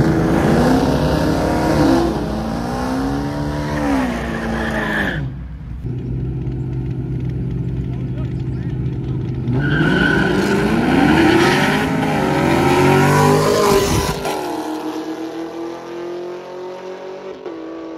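Street race cars, including a red Camaro and a brown Malibu, rev and accelerate hard at a cash-day race in Huntsville, Alabama, loud and close with engine tones climbing in two long surging runs and a sudden cutoff.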